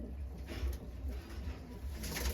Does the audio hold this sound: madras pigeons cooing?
yes